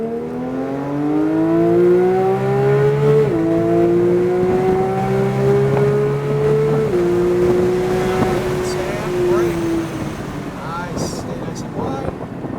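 Porsche 911 GT3 accelerating hard down a track straightaway, engine note climbing steadily with two upshifts, loud and close from inside the car under wind buffeting.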